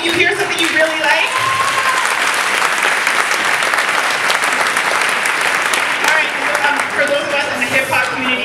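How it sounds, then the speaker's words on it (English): Dense, sustained clapping from a school audience at a Black History Month event at a Catholic school, loud and steady throughout, with faint voices and brief cheers mixed in. "Can you clap for me if you hear something you really like?"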